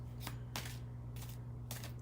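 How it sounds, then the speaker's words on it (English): Large Magical Unicorns oracle cards being shuffled by hand in four quick, papery bursts spaced evenly apart, over a steady low electrical hum with no talking. "I like this kind of shuffling because the cards are big enough that I can catch them if they start to fall apart or fall out of my hand."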